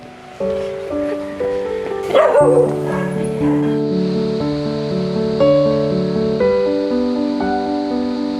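Puppy yipping and whimpering in short high cries over a sustained musical tone bed, close and clear, with one brief burst of higher yelps early on.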